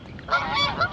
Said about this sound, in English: If you can hear me over the geese.